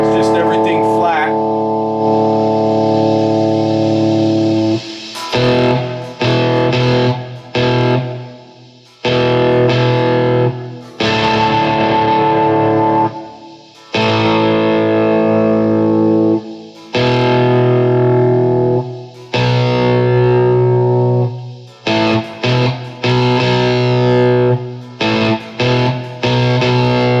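An electric guitar played through an EQ plugin with flat settings in a virtual guitar rig plays chords and picked phrases in bursts separated by short silences, fairly loud and close, with a full, toned sound.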